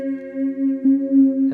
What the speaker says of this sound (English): if I get the pickup going, I call it a sustainer, a sustaining pickup